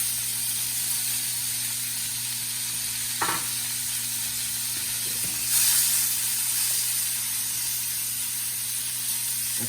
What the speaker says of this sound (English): I'm gonna throw the peppers in